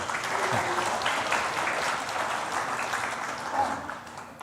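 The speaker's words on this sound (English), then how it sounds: "once again, everyone, please give a big round of applause" Conference attendees give a round of applause, a moderately loud, continuous patter of many hands that swells and fades slightly, with faint crowd murmur underneath.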